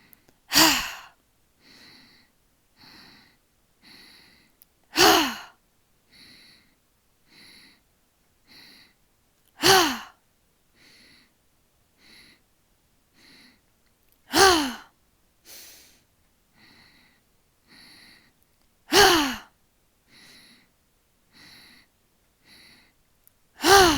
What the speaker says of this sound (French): Respiration de la joie.